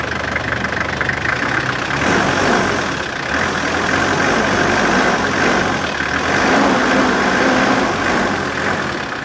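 A Nissan Urvan van's diesel engine idles close up in a steady, dense rumble with a faint knocking edge, holding an even level throughout with no talk over it.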